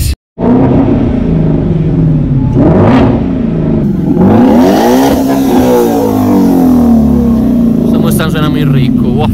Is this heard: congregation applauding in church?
no